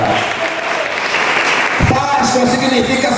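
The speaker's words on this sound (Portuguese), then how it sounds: "E as palmas glorificam a Deus." A church congregation applauds to glorify God, steady clapping filling a hall, shifting partway through to louder, fuller applause mixed with voices.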